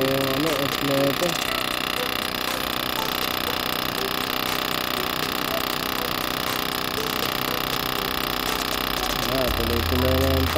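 The fuel pump on a Honda Steed 400 motorcycle runs without stopping, a continuous buzzing mechanical drone close by, with a voice talking over it at times.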